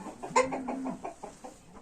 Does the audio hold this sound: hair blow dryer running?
no